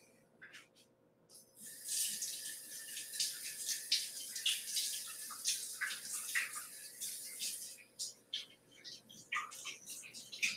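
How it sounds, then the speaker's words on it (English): A kitchen tap runs while hands are rinsed underneath, a close, fluctuating splashing and hiss of water that starts abruptly, swells and sputters in bursts, then cuts off briefly near the end. "let me give my hands a quick rinse and then we'll begin"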